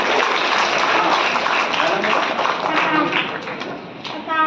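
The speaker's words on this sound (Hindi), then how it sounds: "एक बार इस बच्चे के लिए ताली बजाओ भाई" A group claps together for a child, a dense rattle of hands that fades toward the end, with a voice talking over the applause.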